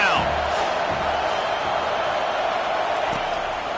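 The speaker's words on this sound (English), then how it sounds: "Decibels rising as the crowd gets behind this defense on third down" Stadium crowd noise from a college football video game, Washington versus Washington State in the Apple Cup on third down: a dense, loud, sustained roar of cheering fans holds steady throughout.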